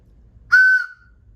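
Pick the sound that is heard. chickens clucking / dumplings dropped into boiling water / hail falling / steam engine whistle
steam engine whistle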